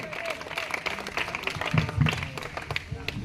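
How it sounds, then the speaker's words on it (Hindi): Applause from an audience at a youth dialogue event, a busy patter of many hands clapping steadily and fairly loud, with voices mixed in underneath. "जोरदार तालियां होनी चाहिए।"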